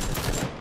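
A short, dense burst of AK rifle fire in PUBG crackles loudly and continuously, with no voices.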